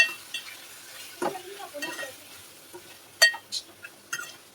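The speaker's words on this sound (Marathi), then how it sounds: "असं हलवून घ्यायचं आहे, प्रॉपर असं हलवून घ्यायचं आहे" Liver (kaleji) being stirred with spices in a pan, with soft scraping strokes, light sizzling and a few sharp utensil clinks against the metal, fairly quiet and close.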